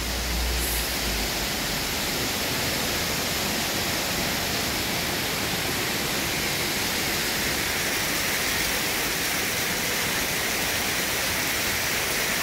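Water flows in a broad, steady rush through a natural landscape in El Salvador, a loud continuous roar with no breaks and no voices.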